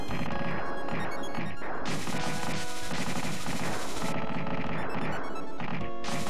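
Rapid, dense weapon fire and explosive crashes from the SNES shooter Super Earth Defense Force pound without a break, layered over loud game music and effects.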